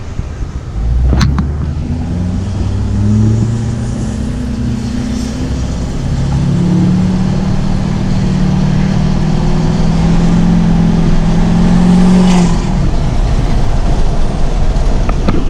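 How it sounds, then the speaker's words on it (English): Duramax diesel pickup engine with a straight 4-inch fully deleted exhaust runs loud and steady for about fifteen seconds, a deep droning rumble with shifting engine tone and a faint turbo whistle above it, no talking. "Straight 4-inch exhaust, fully deleted, so it's going to be hard to tell with the turbo whistle with that much exhaust volume"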